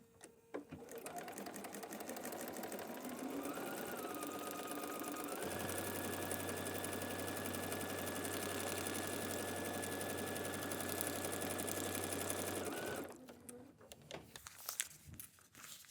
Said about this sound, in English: All I need to do is keep sewing on the lines.